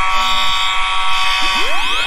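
In the Roblox game Simplex's New House, a building fire alarm blares a loud, continuous electronic tone, joined near the end by rising whooping sweeps.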